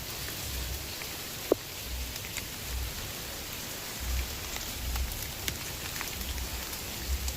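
Steady monsoon rain falls over a flooded street in Ludhiana, Punjab, a constant hiss of drops on surfaces and standing water with soft low rumbles and a single brief knock, no voices.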